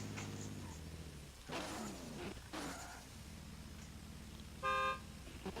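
A drift car at a qualifying event gives a short horn toot near the end, standing out briefly over a steady engine idle, with some rough revving bursts earlier.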